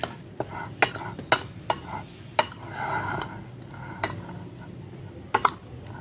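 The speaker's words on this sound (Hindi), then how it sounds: "अभी इसको मिक्स करते हैं।" A spoon mixes salt and spices into a beef tikka marinade in a bowl, giving sharp, irregular clinks against the bowl close by, with a soft stirring rustle between them.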